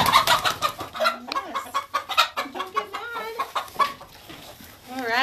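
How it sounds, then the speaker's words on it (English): Farm chicken clucking close by in a series of rapid, varied clucks and squawks, loud and busy, with brief quieter gaps between bursts. "so we got a chicken here."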